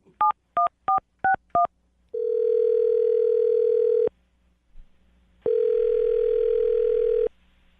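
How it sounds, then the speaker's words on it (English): A telephone keypad dials a number in five quick touch-tone beeps, followed by two long, clear ringback tones separated by a pause, heard alone without talk. "I'm going to dial the phone number right now"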